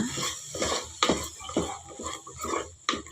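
Tomato and field bean curry being stirred in a pan, with a spoon scraping and clinking against the metal in repeated uneven strokes, close and moderately loud.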